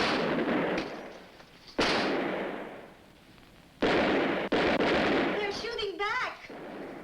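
Several guns fired in a 1956 American exploitation film, loud booming shots with long rumbling decays, one after another, followed by a brief voice near the end.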